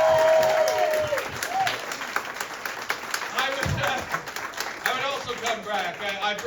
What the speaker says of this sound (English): Round of applause if you would come back again to a Trainwreck Comedy